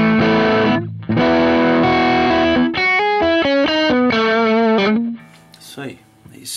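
An electric guitar runs through a V8 Drive distortion pedal into a 2x12 cabinet, first holding loud, saturated chords, then playing a quick run of single notes that fades out.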